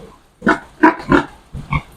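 Pigs on a farm grunting in four short, close bursts spaced about a third of a second apart, each a rough low snort with no talking over them.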